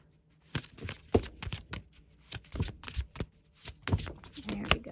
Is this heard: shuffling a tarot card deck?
yes